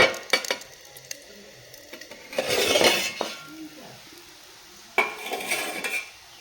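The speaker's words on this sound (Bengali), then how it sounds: "ব্যাটার তো দিয়ে আমি একটা প্লেট দিয়ে ঢাকা দিয়ে দেবো" A plate set down over chitoi pitha batter in a pan on a gas stove, giving clinks and clatters of dishware, with a longer rattling scrape midway and another burst of clinking near the end.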